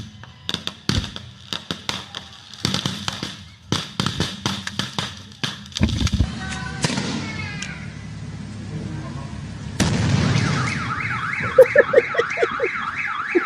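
Car alarm blaring nearby in a street setting, cycling through rapid chirps, pulsing tones and rising-falling wails, while sharp knocks and bangs come between its phases.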